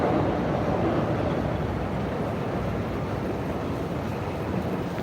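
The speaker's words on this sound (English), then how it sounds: "That's the Shinkansen going by." Steady, broad rumbling roar of a Shinkansen bullet train passing nearby in Tokyo, a continuous dense wash of sound holding level for several seconds with no voices.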